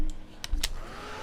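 A hair dryer blows on wet paint in a short, steady, close airy whoosh with a few brief knocks near the start.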